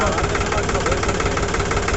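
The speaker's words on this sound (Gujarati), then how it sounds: "આ ટ્રેક્ટર લઈને ભાઈ જાય છે" A tractor engine runs steadily on a rural farm road in Rapar taluka, a continuous low mechanical drone with a knocking rumble, close and fairly loud beneath people talking.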